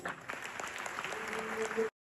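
A church congregation applauds at a theatre play, steady clapping over about two seconds with some voices mixed in, ending abruptly.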